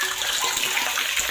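Water runs into a home water tank fed by a newly installed pump, a steady rushing, splashing flow that holds constant throughout at moderate loudness.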